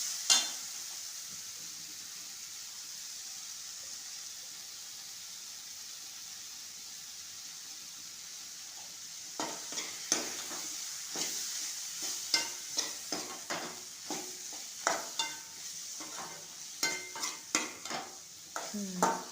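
Cut vegetables being sautéed in a pan for fish curry: a soft steady sizzle, then from midway a run of irregular scraping and stirring clicks of a spoon against the pan.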